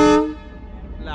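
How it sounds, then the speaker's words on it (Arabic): A train horn in Bangladesh blasts loud and close, a single harmonic-rich toot that cuts off quickly and leaves a fading rumble of the train. "أعلى زمور بسمعه بحياتي أقسم بالله."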